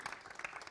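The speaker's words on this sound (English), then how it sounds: "A big round of applause for them too." Brief burst of audience applause at a press conference in India, a dense patter of many hands clapping at moderate distance, lasting under a second.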